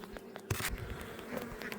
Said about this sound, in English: Let's move the bees out of the way.